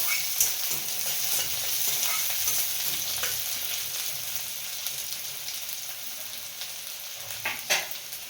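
Masala frying for kasuri methi chicken gravy, a continuous close sizzle broken by spoon stirs and scrapes that grow sharper near the end, no one talking.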